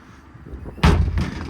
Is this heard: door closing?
yes